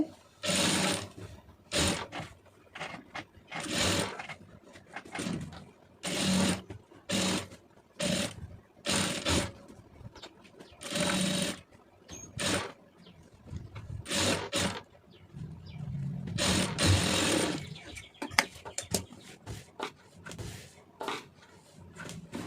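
A sewing machine stitches a seam along the plain cloth at the neckline of an Aari work blouse, running in repeated short bursts with brief pauses between runs, close and steady.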